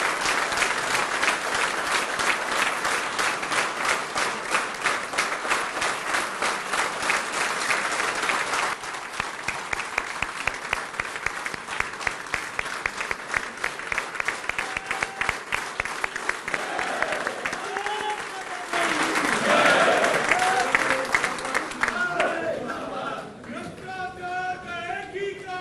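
Audience applause at a national council meeting for the party's national president, sustained rhythmic clapping from a large hall lasting over twenty seconds and ending with a voice taking over amid fading claps.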